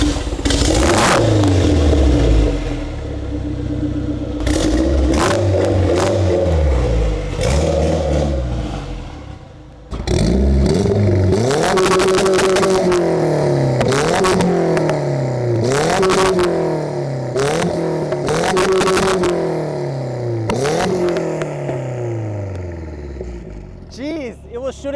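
Subaru WRX with a side-exit exhaust and 550 wheel horsepower, revving hard in a run of loud, close rising and falling blips that fill the whole stretch, with a short dip partway through and voices talking over it.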